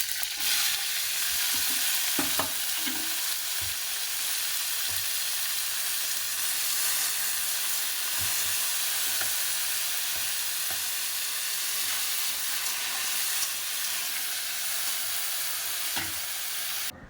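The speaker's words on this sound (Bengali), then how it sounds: "ফোড়ন দিয়ে দিলাম, কয়েকটা কাঁচা লঙ্কা দিয়ে দিলাম।" Whole spices and a few green chillies crackle and sizzle steadily in hot oil, a dense close hiss that runs the whole time with occasional sharper pops and no talking.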